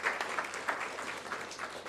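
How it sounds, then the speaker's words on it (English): An audience at a lecture and panel discussion applauds, a moderate, continuous clatter of many hands clapping with small swells, somewhat distant and steady throughout. "I want us all to give our panelists and our keynote speaker a round of applause"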